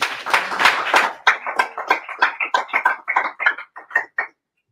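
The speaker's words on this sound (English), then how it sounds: "Can we give her a round of applause?" Clapping at a tech talk on Silicon Valley and Africa: a brief dense burst of hands opens, then thins into a sparse, rhythmic series of individual loud claps that stops abruptly near the end.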